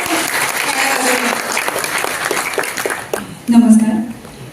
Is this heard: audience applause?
yes